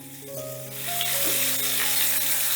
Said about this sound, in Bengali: এবারে এই সবজিটাকে ভালো করে আমি ভেজে নেব